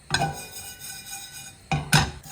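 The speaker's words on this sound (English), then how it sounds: "I'm going to use a pestle and mortar because I want to just coarsely crush it" Roasted spices for a Kolkata chicken biryani being coarsely crushed with a pestle and mortar, heard as a few quiet grinding knocks and clinks, with a pause between the first strike and the last two.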